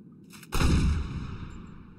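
A shot fired in the video game Grass Simulator, one sudden loud boom that decays into a rumbling tail, following a brief quiet tonal stretch.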